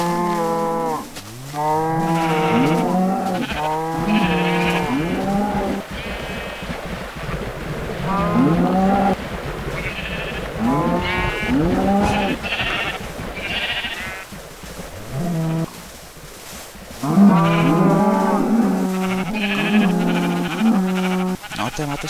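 Minecraft farm animals, a starting herd of pigs among cacti, lowing and bleating in repeated overlapping calls, loud and close, with steady ambient game noise underneath.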